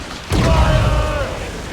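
A single heavy cannon shot booms in an Assassin's Creed Rogue naval battle, a sudden loud blast with a rumbling tail and ringing tones that fade over a second.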